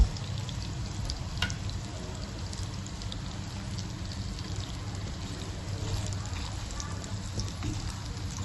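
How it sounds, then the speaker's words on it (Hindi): Chicken kebabs frying in a pan, a constant crackling sizzle with scattered sharp spits and pops, fairly quiet and close. "कबाब हमारे तकरीबन फ्राई हो गए हैं"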